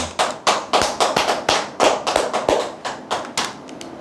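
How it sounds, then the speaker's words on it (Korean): An audience at a sales coaching talk claps for about four seconds, giving close, uneven bursts of hand claps that land in a loose rhythm, with no speech over them. "네, 박수."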